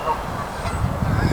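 A goose on a levee, with a pair of mallards nearby, honks outdoors in a steady, close call against a background of outdoor noise.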